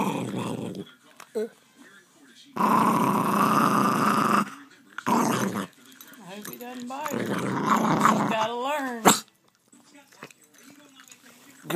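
A dog growls in long, rough, rumbling bursts while eating dinner, close by and loud, with a high whimper and yip mixed in, as people talk over and between the growls.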